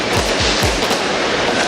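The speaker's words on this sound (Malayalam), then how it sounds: "സ്കൈ ടവറിൽ നിന്നുള്ള വെടിക്കെട്ടിന്റെ ദൃശ്യങ്ങളാണ് നമ്മളിപ്പോൾ കണ്ടുകൊണ്ടിരിക്കുന്നത്." New Year fireworks launched from Sky Tower in Auckland, New Zealand, with three deep booming bursts in quick succession over a dense, continuous crackle.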